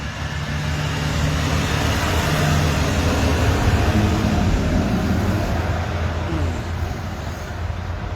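Road traffic rolls past in a steady, loud rumble with broad road noise for the whole stretch, and no voices are heard.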